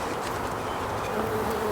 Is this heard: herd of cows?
no